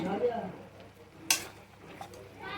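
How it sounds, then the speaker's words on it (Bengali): Okra stirred into poppy seed paste in a pan, with soft frying sizzle and one sharp spoon scrape against the pan partway through. "দেখো যে পোস্ত পাতাটা পুরো দিয়ে দিচ্ছে দিয়ে ভালো করে নেড়ে নেবো"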